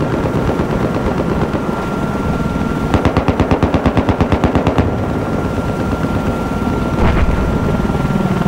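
Enemy helicopter in a Battlefield 4 Conquest Large match, a loud steady rotor drone throughout, cut through by a rapid burst of machine-gun fire and a later short volley.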